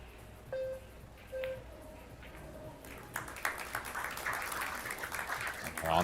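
Fans at a Team Austria versus Team Poland box billiards match cheer and clap in a rising, fairly distant crowd roar that swells over the last few seconds, with a few clear tones and a voice early on.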